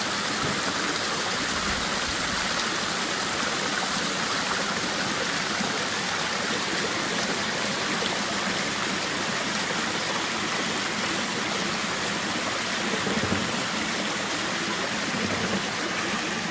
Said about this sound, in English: let you guys check out those waterfalls